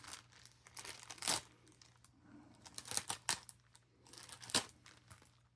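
A knife works at stretchy packaging material that resists cutting, giving intermittent close crinkling, tearing and scraping bursts separated by quieter gaps, with faint background hum.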